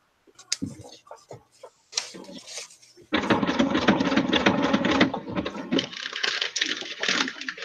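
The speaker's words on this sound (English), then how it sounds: "now let's take a Tim Holtz ephemera piece and sew that here" Sewing machine stitching a Tim Holtz paper ephemera piece onto a craft tag, a dense continuous mechanical whir that starts after a few soft handling sounds and runs steadily to the end.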